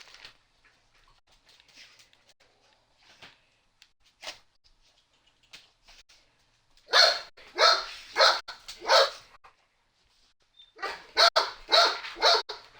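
Two household dogs barking in a quarrel: a burst of repeated barks in quick succession, then a pause and a second volley, loud and close, with no talk over it.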